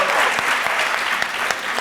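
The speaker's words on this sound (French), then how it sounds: "Mécène, s'il vous plaît, qu'on applaudit." Studio audience at a French-language TV show breaking into applause, a brief, full burst of crowd clapping with a few sharper claps standing out.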